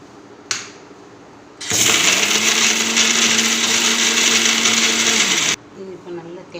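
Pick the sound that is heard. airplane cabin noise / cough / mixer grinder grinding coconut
mixer grinder grinding coconut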